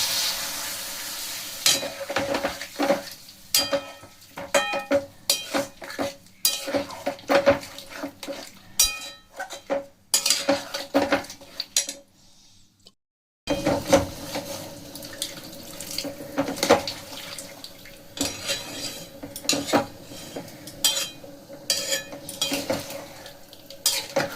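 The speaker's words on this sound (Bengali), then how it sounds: "এখানে জল দিয়ে দেবো" Water splashes and gurgles into a pan of red Kashmiri-style aloo dum made with new potatoes, mixed with clattering utensil knocks and stirring, broken by a brief silence midway.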